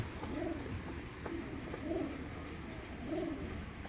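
Soft, low cooing repeats in slow rhythmic phrases, three or so rounds close by, over a faint background hum.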